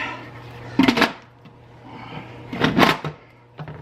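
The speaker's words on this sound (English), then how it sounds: "let's put the lid on here" A metal lid fits onto a pressure cooker while beef is prepared Chicago style, giving two clattering bursts of scraping and clanking, close and distinct over a low steady hum.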